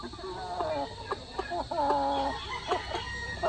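Native chicks of barred rock type peep and cheep in a flurry of high, thin calls, fairly close and continuous, with faint farmyard background.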